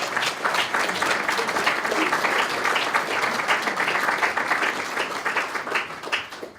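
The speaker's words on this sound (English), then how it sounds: "Let's give that a round of applause." A crowd at a downtown Midland streetscape celebration gives a sustained, dense round of applause, with many hands clapping at once at a steady, fairly loud level throughout.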